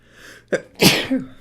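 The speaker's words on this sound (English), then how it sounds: "Oh, I'm gonna sneeze, I know." A single loud sneeze up close, a short sharp inhale followed by an explosive burst, with nothing else around it.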